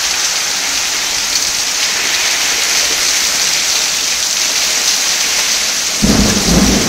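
Steady heavy rain with rolling thunder fills the scene, a continuous loud wash that swells with a deeper rumble near the end.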